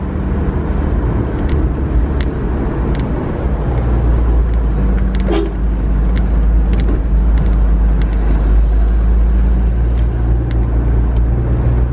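Low, steady engine rumble and road noise of a car creeping slowly along a road just past a toll exit, continuous and loud from inside the vehicle, with a few faint clicks and knocks.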